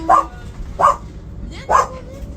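Three sharp dog barks spaced roughly evenly apart, close by, with a low background rumble between them.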